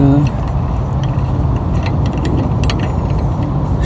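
A brass spigot stem is threaded into an old soldered valve body during a stem and packing nut repair. Steady close metallic grinding and rasping runs continuously through the clip, loud and unbroken.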